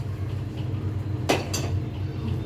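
Pots and a pressure cooker set down on a home kitchen stove, giving two sharp metallic clanks a moment apart over a steady low background hum.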